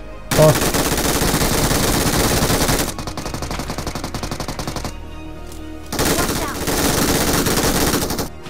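Sustained automatic gunfire in the mobile battle royale game PUBG Mobile, loud bursts running almost continuously across the clip with a brief lull in the middle before firing resumes.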